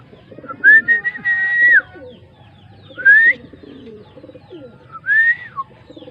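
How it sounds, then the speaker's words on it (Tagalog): Pigeons call nearby in three separate bursts with short rising whistled notes and soft cooing between them, one circling overhead, in a quiet setting. "may isa na tayong ibon at umiikot"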